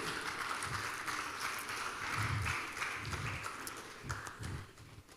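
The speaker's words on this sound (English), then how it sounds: "Let's give him a round of applause as he walks up the podium." Audience applause greets a priest, the Very Reverend Father Emeka, as he walks up to the podium at a debate event, a steady, moderately distant wash of clapping lasting throughout.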